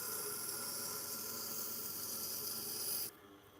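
A chef knife is worked on a 1000 grit whetstone, giving a continuous close, soft rasping hiss that holds steady for about three seconds and then abruptly stops.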